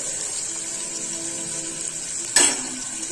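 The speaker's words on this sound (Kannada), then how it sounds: "ಎಲ್ಲ ಎಣ್ಣೆಯೊಳಗ ಫ್ರೈ ಮಾಡ್ತೇವೆ. ಇದು ಎಣ್ಣೆಯೊಳಗ ಒಂದ್ ಫ್ರೈ ಆಗಲಿ." Ingredients for masoor dal sambar fry in hot oil in a home kitchen, giving a steady, even sizzle throughout, with a sudden louder crackling burst near the end as something is stirred or added.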